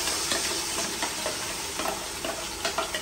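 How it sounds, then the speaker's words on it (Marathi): Spice masala frying in hot oil for homemade mutton kheema, giving a steady broadband sizzle with faint stirring scrapes, close and continuous, with no talk. "हा जो मी मसाला केलेला आहे तो मसाला तेलामध्ये टाकणार आहे"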